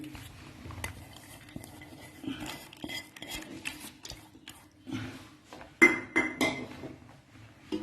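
Sparse kitchen clatter: metal clinks and scrapes against a pressure cooker as chana dal lentils are added, with a brief pouring rattle and a few louder knocks near the end.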